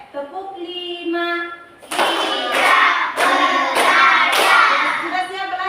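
Schoolchildren chant briefly, then clap the tepuk semangat cheer in a steady rhythm, with about five sharp accented bursts over a shared clatter of hands and voices.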